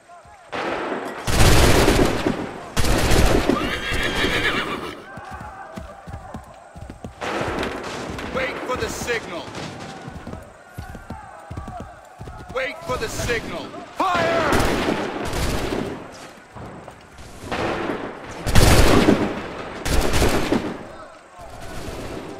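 Musket volleys crack and boom in Assassin's Creed 3 as ranks of soldiers fire together in repeated loud bursts, separated by shouted commands from officers and lingering rumbles between the salvos.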